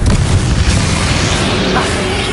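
The Confringo spell in the Hogwarts Legacy video game goes off as a loud, dense explosion. A booming burst at the start settles into roaring, crackling noise for about two seconds.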